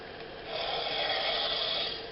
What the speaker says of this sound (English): now you can hear the breathing